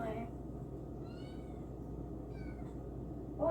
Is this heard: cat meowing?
yes